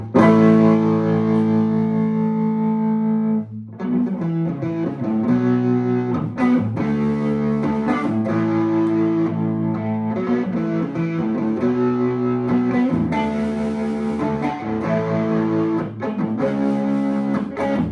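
Distorted electric guitar, a Harley Benton Victory-BK, playing sustained chords and riffs, loud and steady, with no talking.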